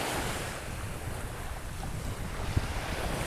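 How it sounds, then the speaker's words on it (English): Choppy surf churns along a beach in Aruba during unusually high tides, a steady wash of water mixed with wind rumble on the microphone, no voices. "that is creating some unusual tides, high tides, and thus some choppy waters that you would normally not have"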